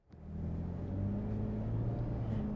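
A Toyota Tundra V8 pickup truck engine rumbles up and holds a deep, steady drone as it accelerates, close by, with no voices.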